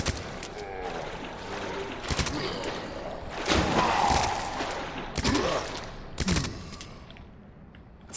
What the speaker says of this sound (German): Zwei Schuss aus dem Granatenwerfer und das Ding ist platt.